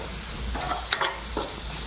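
Egg curry simmering in a pan gives off a steady low sizzle with occasional stirring scrapes and small clinks, close by and continuous, with no talk over it.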